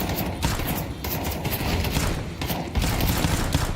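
Rapid bursts of gunfire from a Counter-Strike 2 match at a Major tournament, a dense rattling fusillade with a few short gaps between volleys, loud and close throughout.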